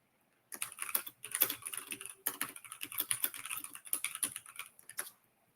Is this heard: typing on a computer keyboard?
yes